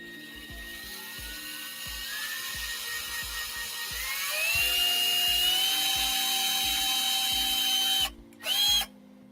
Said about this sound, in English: I'm going to drill a little hole here so that I can get the thread through from the center.